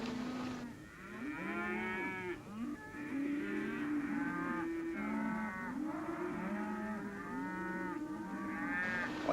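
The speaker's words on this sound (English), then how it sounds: "Well, our men are all set to run off Kendall's cattle." A rounded-up herd of cattle in a basin moos continuously, many overlapping low calls sounding close and loud with no talking.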